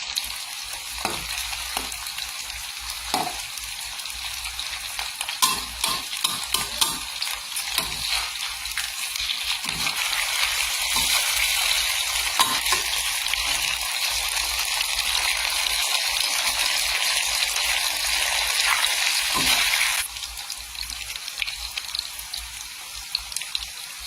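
Pork belly frying in fish sauce gives a steady, loud sizzle and crackle of hot oil, with occasional pops and stirring scrapes, continuous and close throughout, no speech.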